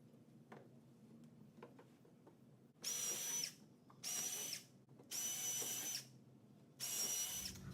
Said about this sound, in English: now we got all of our holes drilled in here